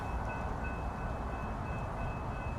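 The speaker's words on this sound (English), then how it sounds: "here comes a train" A train rumbles past in Delray Beach, Florida, a steady low roar of rail noise with a faint sustained whine above it, fairly distant and unbroken, with no talking.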